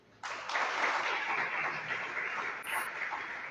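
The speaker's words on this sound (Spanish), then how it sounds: "Dale un aplauso, pues." A burst of applause starts abruptly and holds steady, dense clapping from a crowd that fills the room at a strong, even level.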